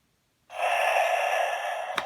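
An animated reaper Halloween decoration gives a single long, steady snoring breath that starts abruptly and holds evenly at close range, ending with a brief click.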